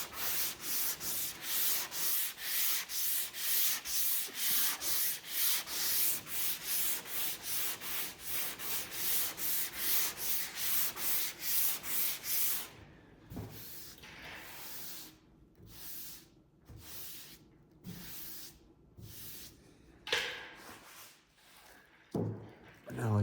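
Primer on a 1976 Trans Am is sanded lightly by hand with steady rhythmic back-and-forth strokes for about twelve seconds, followed by sparser rubbing strokes and someone talking.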